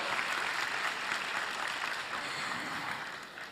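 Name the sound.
audience applause for the CSOs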